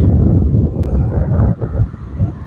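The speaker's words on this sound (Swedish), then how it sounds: "Du hör lite vinden." Steady wind rumbles and buffets against the microphone, a low, loud roar that dips briefly midway before gusting again.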